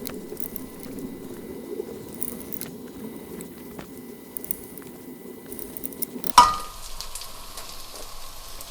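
Onions frying in a pan produce a quiet, continuous crackle and sizzle, with a few light clicks along the way and a sudden sharp clatter near the end before the sizzle continues faintly.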